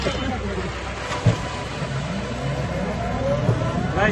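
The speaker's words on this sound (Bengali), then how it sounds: "আমরা অটোতে" An auto-rickshaw engine drones steadily while riding, a continuous mid-level motor hum and road rumble with a couple of brief bumps, under occasional voices.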